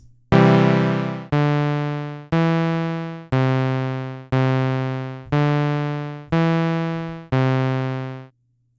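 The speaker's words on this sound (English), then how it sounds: "Let's do Saw Waves. Saw Waves are always fun to listen to" Code-generated synthesized sawtooth-wave chord, struck eight times in a steady rhythm, each hit bright and buzzy with a sharp attack and a gradual decay, loud and alone.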